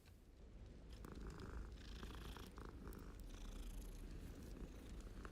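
A cat purring up close, a soft, steady rumbling drone with faint breathy rises and falls, fairly quiet and uninterrupted by talking.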